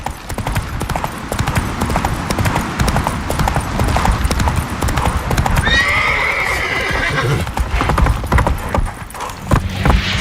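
A horse gallops in The Witcher 3 with steady, rapid hoofbeats close up, a brief whinny partway through, and a voice urging it on during the run.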